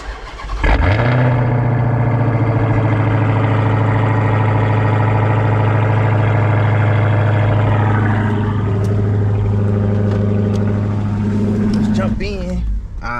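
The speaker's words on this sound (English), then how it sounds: "I'm trying to give y'all a cold start, but the tank engine light is on, so it's probably not gonna stay started." Dodge Hellcat V8 cold start: a sharp crank catches into a loud, steady high idle that holds for about ten seconds, then falters and cuts out near the end, with no talk over it.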